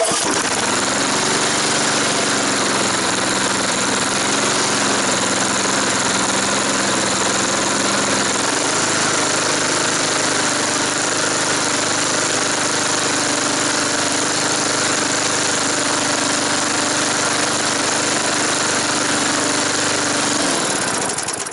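A lawn mower engine runs steadily on vegetable oil fuel, a loud continuous drone that shifts to a lower, rougher pitch partway through, then keeps going without voices.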